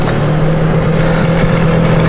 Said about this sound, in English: I'll just wait for the traffic to go by. Loud at this time of day.